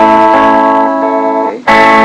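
A banjo is picked in a backward roll across the first three strings, a quick bright run of plucked notes ringing close and loud, with a short dip before a final strong strum.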